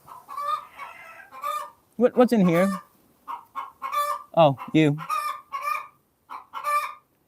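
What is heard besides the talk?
chickens clucking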